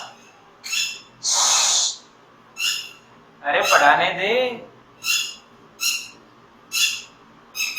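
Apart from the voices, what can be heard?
birds calling, owl-like, during a class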